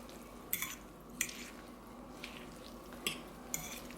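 Fonio summer salad ingredients tossed lightly in a bowl, with a few soft scrapes and clinks of a utensil against the dish spaced out over a quiet, close background.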